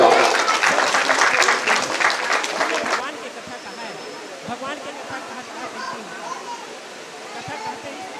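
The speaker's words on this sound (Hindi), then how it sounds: "जोरदार ताली बजाइएगा" An audience at a Tulsidas Jayanti honour ceremony in Kurra claps loudly and densely for about three seconds, then the applause fades to scattered, softer claps under crowd murmur and a voice.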